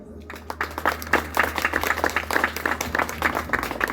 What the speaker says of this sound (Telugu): ముత్తుకూరు చప్పట్లు కొట్టండి